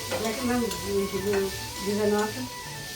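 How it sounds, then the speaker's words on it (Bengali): Steady sizzling of raw chickpeas frying in a hot pan with stirring scrapes, a busy frying hiss running throughout at close range with no talking. "এখানে ছোলা ভাজা হচ্ছে।"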